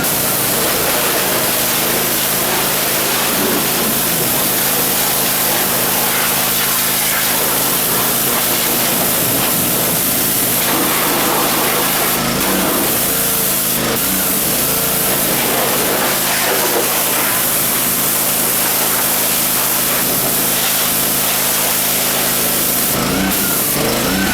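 Degreaser sprayed over a car engine bay during a wash: a steady, loud hissing spray runs almost the whole time, close up, with a few brief louder bursts and no talking.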